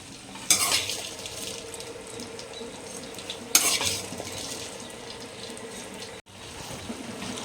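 Freshly washed and cut green chillies drop into hot oil for a pickle, giving two sharp bursts of sizzling that settle into a steady low frying hiss, with no talking.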